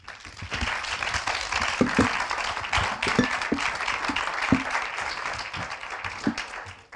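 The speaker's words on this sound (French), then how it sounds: "On peut les applaudir." An audience at a conference panel on the environmental impact of programmatic advertising applauds its speakers, a moderate crowd clapping steadily with a few sharper individual claps standing out, somewhat distant in the room.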